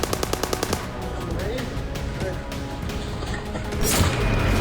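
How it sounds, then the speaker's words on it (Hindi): Gunfire from Hamas fighters shooting through house windows during fighting in Israel: a quick run of sharp automatic shots opens, then fades into a rough, noisy wash of background sound. "हथियारों से लैस हमास लड़ाके लोगों को घर में बंधक बना चुके हैं और खिड़कियों से फायरिंग कर रहे हैं"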